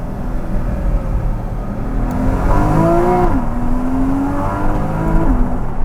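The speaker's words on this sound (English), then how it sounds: "because the noise from this flat six" Porsche 981 Cayman S flat-six engine accelerating in first gear with the window down, a loud rising howl that climbs in pitch, drops at a shift, then builds again close by.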